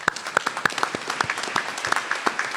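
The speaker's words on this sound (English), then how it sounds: "I think you all deserve a round of applause" Audience applause at a Monash University commencement ceremony, with crisp individual claps standing out rhythmically over a denser crowd clapping, close and moderately loud throughout.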